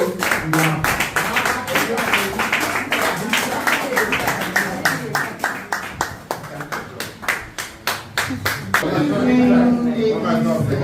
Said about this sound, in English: Let's clap together for our